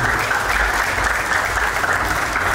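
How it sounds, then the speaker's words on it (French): Wedding guests break into loud, dense applause at a reception, continuous clapping with no break for the whole short stretch. "Applaudissez pour Sirmakoso"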